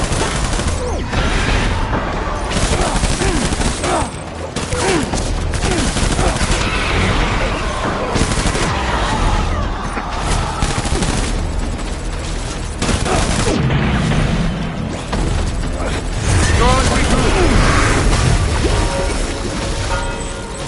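Gunfire in the Death Stranding video game rattles in dense, loud bursts of rapid shots mixed with crashes and booms, continuous throughout with voices shouting over it.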